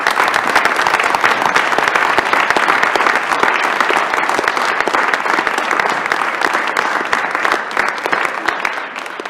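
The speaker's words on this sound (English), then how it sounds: "but first give them a round of applause." A room of university regents and meeting attendees applauds the departing chancellors with sustained, dense clapping that stays steady and fairly loud throughout, with no talk over it.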